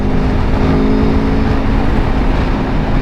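A motorcycle engine under throttle gives a loud, steady, continuous drone with rushing wind noise, close and unbroken for the whole stretch.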